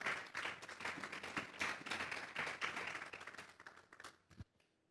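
A church congregation gives a strong round of applause during a sermon, dense steady clapping throughout that stops abruptly near the end.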